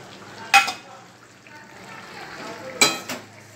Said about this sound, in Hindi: इसमें अब टमाटर डाल देंगे,